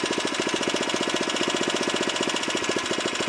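Engine of a Tanaka MKS1000R ditch-cutting rider running steadily, with a close, rapid, buzzing pulse from the small engine and a constant level while the throttle setting changes.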